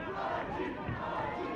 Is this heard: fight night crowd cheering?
yes